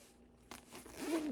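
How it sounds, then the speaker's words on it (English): A zipper on an emergency kit bag is pulled open in one short, faint rasping stroke, heard alone. "zipper."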